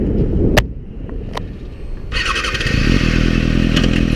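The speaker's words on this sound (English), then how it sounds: "First gear clutch up wheelies." A motorcycle in a big parking lot revs for first-gear clutch-up wheelies, loud and close, with a couple of sharp clicks before the engine surges into a sustained high roar.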